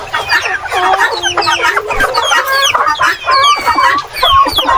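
Rhode Island Red chickens cluck steadily at close range on a farm, a dense overlapping chorus of short calls and rising squawks that continues throughout without pause.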